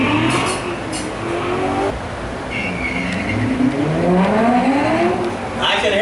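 A 2019 Corvette Grand Sport at a drag strip event, with engines revving and rising in pitch through gear changes and tires spinning, heard from a distance under crowd noise and announcer talk.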